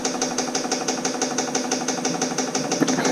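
A small Weber military tent heater runs with a possible overfuelling fault, a close steady mechanical hum with a fast regular ticking pulse, roughly five beats a second, and a brief louder thump near the end.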